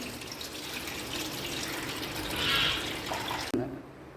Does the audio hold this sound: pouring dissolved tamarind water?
yes